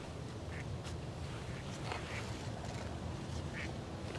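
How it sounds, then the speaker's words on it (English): Ducks quack several times at a distance over steady wind and rumbling background noise in an outdoor duck-hunting spot, the calls faint and scattered. "I hear quacking."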